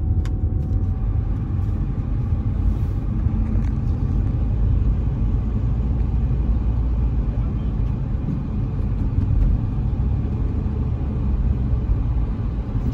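Steady interior rumble of a car driving through Rio de Janeiro with the air conditioning running, a constant low road and engine drone with an even airy hiss throughout, no other events standing out.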